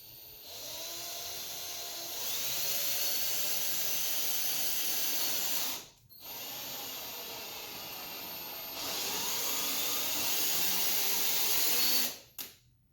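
A countersink bit is cut into a wooden Esquire-style guitar body with a power drill, producing a steady high whine in two long runs, each ending abruptly, with no talking.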